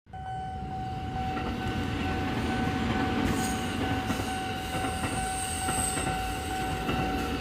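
Jakarta MRT or LRT train rolling past with a steady loud rumble, wheel noise and a sustained high tonal whine, heard close by.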